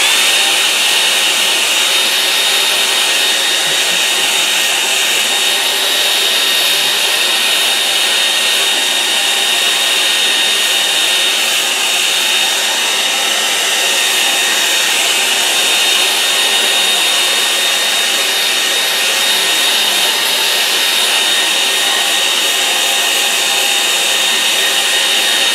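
A hair dryer blows steadily on a watercolour painting of a spring wetland scene, a loud, unbroken broadband whoosh and whine that holds level for the whole stretch with no talking over it.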